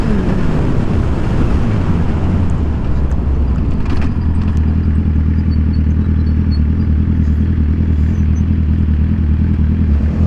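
A motorcycle engine drones loudly and steadily throughout the ride, with a faint rattle on top.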